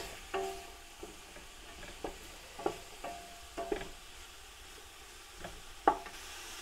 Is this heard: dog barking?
no